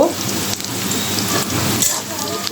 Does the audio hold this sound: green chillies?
yes